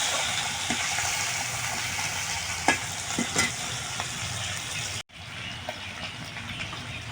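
Prawns frying with garlic in a hot pan give off a steady, close sizzle, with a few sharp stirring clinks and a brief dip in the hiss partway through.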